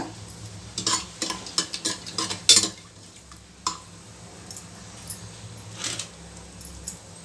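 Whole spices, cinnamon, cloves, cardamom, star anise and bay leaf, hit hot oil in a pressure cooker for mutton gojju, giving a soft sizzle broken by scraping stirs and clinks of a spoon against metal.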